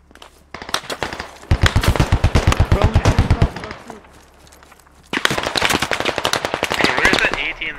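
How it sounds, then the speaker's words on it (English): Automatic rifle fire in the video game Squad around a power station by a pier, with loud rapid bursts of shots aimed at a building, a pause, then more sustained firing further off, under occasional voices. "They're firing at the building."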